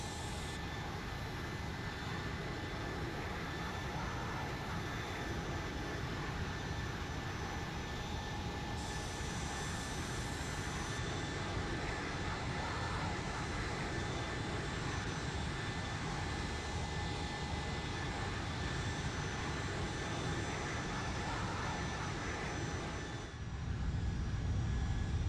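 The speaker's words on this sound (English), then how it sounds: "And then I'll turn up the engine noise here. 757 sound." A steady, loud Boeing 757 jet engine roar in a flight simulator drones continuously with a whining tonal hum, unchanging for the whole stretch with no voices.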